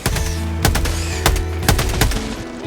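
Rapid automatic gunfire from the Helldivers 2 video game, with bursts of loud sharp shots repeating every half second or so in a dense, sustained volley.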